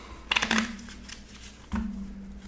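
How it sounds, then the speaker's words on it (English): Playing cards are shuffled on a tabletop, a quick riffling burst followed by a softer second riffle, close and clear with a faint background hum. "I'll shuffle these one more time"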